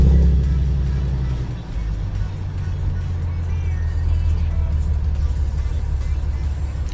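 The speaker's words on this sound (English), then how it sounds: "Now we could turn on the car for the first time" A 5th generation Chevrolet Camaro starts up, its engine catching with a deep low rumble and then running on in a steady, close idle.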